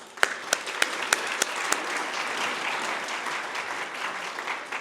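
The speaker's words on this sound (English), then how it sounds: "can please help me with a big applause to our volunteers" Audience applause for volunteers at an IEEE section annual meeting, opening with several loud distinct claps before settling into a steady, moderately distant wash of clapping from the crowd.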